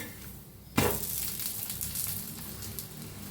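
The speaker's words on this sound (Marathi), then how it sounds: "बघा मस्त शेकायला लागलाय" Dhapate flatbread sizzles in ghee on a hot pan, a sharp hiss bursting in after a quiet moment and holding steady, close and fairly loud, with no talking.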